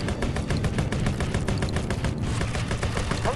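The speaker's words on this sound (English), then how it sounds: "machine gun damage." Machine gun fire from a mobile war video game, a loud, unbroken stream of rapid rattling shots with dense crackling bursts that continue steadily throughout, with no voices.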